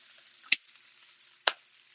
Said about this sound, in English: The sauce diable, you want to give it a little stir as well.